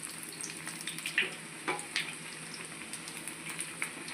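Plantain and potato bajji fritters deep-fry in oil with a soft, steady bubbling hiss, broken by a few faint clinks and taps as the pieces are turned.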